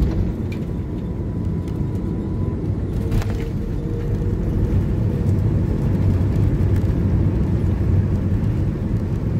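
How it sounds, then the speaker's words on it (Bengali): A passenger airplane landing at Cairo International Airport gives a loud, continuous low roar of engines and rolling, with brief thumps and rattles partway through. "অবশেষে আমরা সেফলি ইজিপ্টের মাটিতে ল্যান্ড করলাম।"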